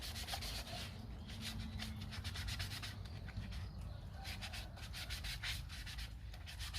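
An old plant pot is scrubbed clean with rapid, rhythmic abrasive strokes that scratch steadily and close up for the whole stretch, with no speech.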